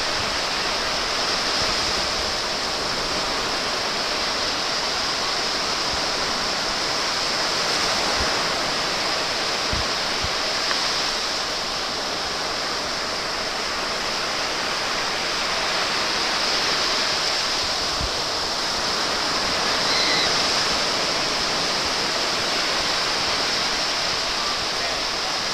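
Ocean waves at the beach make a steady, full wash of surf, a continuous roaring hiss that swells and eases gently, close and loud with no clear voices.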